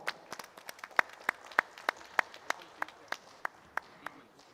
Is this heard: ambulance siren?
no